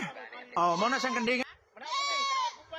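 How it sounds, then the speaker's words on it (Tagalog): A goat in Negros Oriental bleats in loud, wavering cries: one long quavering call, a brief pause, then a second sustained bleat, close and clear with little else around it. "Ang ating super kambing tila nakikipagsagutan pa sa mga goat whisperer"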